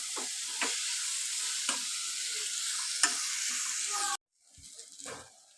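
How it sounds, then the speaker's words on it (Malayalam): Chopped tomatoes stirred into sautéed onions in a pan for erachi puttu: a loud steady sizzle broken by several scraping stir strokes, then the frying cuts out abruptly and a quieter shuffling stir follows. "ഇനി അരിഞ്ഞു വെച്ച തക്കാളി ഇട്ട് കൊടുക്കുക. അതിന് ശേഷം നല്ലവണ്ണം ഇളക്കി കൊടുക്കുക"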